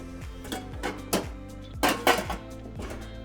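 Cooking pot being handled in a home kitchen, with several metallic clanks and knocks in an uneven rhythm, close and fairly loud with no talk.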